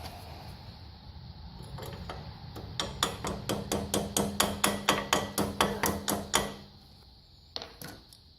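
Steady hammer blows, about fifteen sharp metallic strikes in a quick even rhythm, ring out close and loud while a Simplicity rototiller is being taken apart, followed by a couple of isolated knocks.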